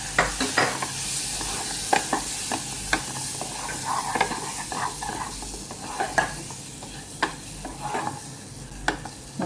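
Eggs stirred into sizzling pepper-spiced masala in a pressure cooker for egg curry, loud close sizzling under repeated scraping and knocking strokes of a spoon against the pot, with no talk.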